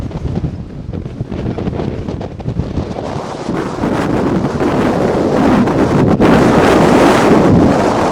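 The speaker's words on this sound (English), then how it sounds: "It appears to be a little windy here." Strong wind buffets the microphone in a steady, roaring rush that grows louder midway, with no voices.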